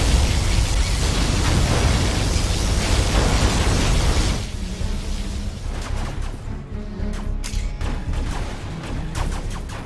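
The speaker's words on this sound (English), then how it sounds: "Particle cannon activated." A loud, roaring particle cannon blast in Command & Conquer Generals Zero Hour floods everything for about four seconds, then drops away into a rumbling tail with scattered pops and crackles.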